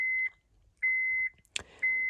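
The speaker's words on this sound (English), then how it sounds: "Sorry for the beeping." Honda Pilot under rebuild chiming after the ignition is switched on, three sustained electronic beeps in a steady on-off pattern, close and clear, with a brief click between the second and third.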